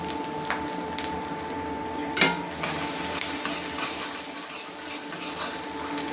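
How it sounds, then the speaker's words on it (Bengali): Chopped onions frying in a generous amount of oil for a goat trotters haleem, with steady close sizzling and stirring scrapes, a sharper clatter of utensil against the pan near the middle. "আমার পেঁয়াজটা দেখুন লাল লাল করে ভাজা হয়ে গেছে।"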